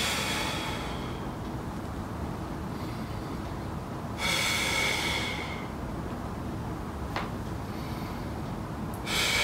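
Breathing during a calcaneal squat: slow, close breaths with distinct hissy inhales and exhales spaced a few seconds apart over a steady low background, no speech.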